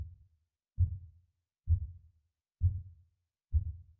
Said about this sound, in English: my father's footsteps through the hall. It sounds like fucking heavy heartbeat.